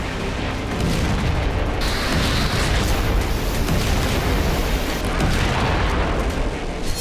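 A heavy blast rings out as a Russian tank is struck during an assault near Pokrovsk, a sustained roaring boom with crackling bursts that swells and lingers for several seconds.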